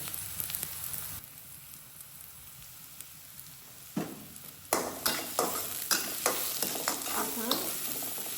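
Onions frying with salt in a pan, first a quiet simmering sizzle, then louder bursts of stirring and scraping with a spatula that grow busier toward the end, close up and without voices.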